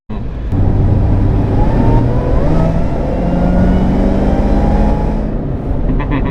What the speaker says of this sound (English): Oh, you'd never know this is an 800 horsepower car.